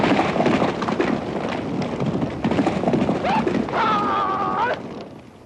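Kazakh horses' hooves clip-clop steadily under a dense wash of ambient noise, with a brief whinny-like tone near the end.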